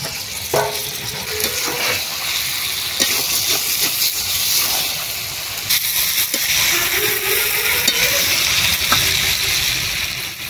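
Country chicken meat sautéing in a pan for a kohlrabi curry, a steady sizzle and hiss with intermittent scraping stirs and clinks, close and continuous.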